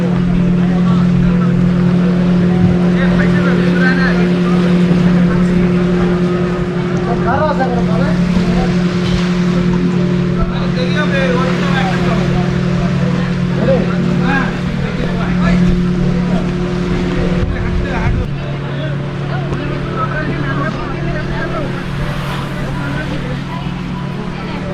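A motorboat towing a banana ride off Havelock in the Andaman Islands drones with a steady, loud engine hum throughout, with water and wind noise mixed in and a slight drop in level near the end.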